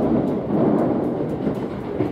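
A Keisei limited express train pulls into Yachiyodai station with a steady, loud rolling rumble and faint rhythmic clicks that continue throughout, with no voices.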